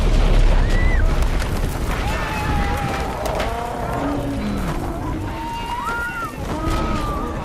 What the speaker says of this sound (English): Then the bombs start to drop and...